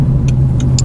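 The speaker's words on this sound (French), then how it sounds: "On va se faire dépasser par deux voitures." Cars overtaking on a race track during an Audi R8 driving course, heard as a loud, steady engine drone from nearby with a few short, bright whooshes as they pass.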